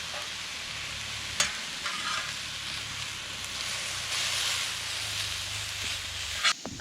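Mushrooms and steak sizzling on a Tembo Tusk Skottle camp griddle outdoors, with a steady hiss and a few sharp scrape or tap sounds, close by.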